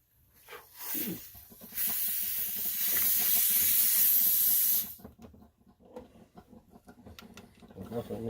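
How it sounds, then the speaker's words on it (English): A can of WD-40 lubricant sprays onto a hose fitting in one loud, steady hiss lasting about three seconds, followed by quieter handling noises and a faint voice. "you get a little WD-40 there"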